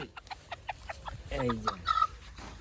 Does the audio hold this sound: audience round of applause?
no